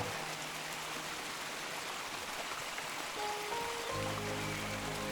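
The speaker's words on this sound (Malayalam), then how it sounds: "ഇവിടെ തന്നെ ഒരു വെള്ളച്ചാട്ടം കാണാൻ കഴിയുന്നുണ്ട്" Steady rushing water from Vellarimedu waterfall in Palakkad, Kerala during the monsoon, a constant broad roar like heavy rain or a stream, with a low tonal hum entering near the end.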